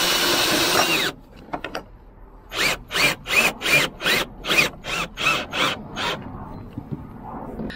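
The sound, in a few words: driving a self-tapping screw into a roof rack bracket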